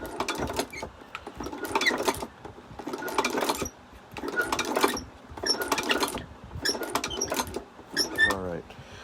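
A China leather shoe patcher sewing machine stitches in repeated bursts of rapid mechanical clatter lasting about a second each, separated by short pauses, close and loud, with a person talking in between.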